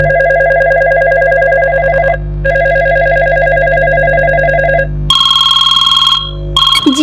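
A telephone rings loudly and close, two long electronic trilling bursts with a short gap, followed by a different higher ringtone tone.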